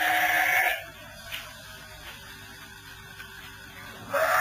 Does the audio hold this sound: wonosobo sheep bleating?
yes